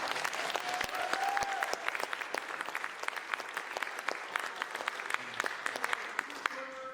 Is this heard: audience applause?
yes